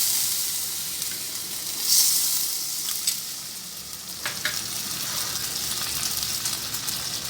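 Butter sizzles in a pan with a steady, close hiss, swelling in a brief louder burst early on before settling into an even crackle.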